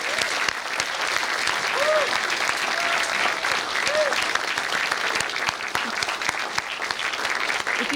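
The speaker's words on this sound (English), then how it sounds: "let's give a clap or two for everyone who submitted their masterpieces to this festival" An audience at the 2019 45th Parallel Film Fest awards night claps for the festival's submitting filmmakers: a dense, steady wash of applause lasting throughout, with a few short whistles rising above it.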